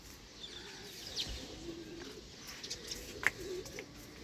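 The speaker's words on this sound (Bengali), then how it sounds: "চড়ু পাখি ডাকতেছে" A few scattered, brief sparrow chirps outdoors on a foggy early morning, faint against a soft steady background hum, with no talking.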